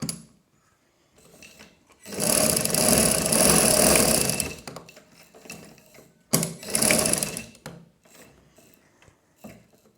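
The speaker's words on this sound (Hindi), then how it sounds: "मैंने उल्टा करके ऐसे सिलाई लगा देनी, ठीक है। ये लगाऊंगी।" A sewing machine stitches a baby girl's frock in two runs: a steady, close mechanical whir for about two seconds, a pause with faint handling noises, then a shorter second burst.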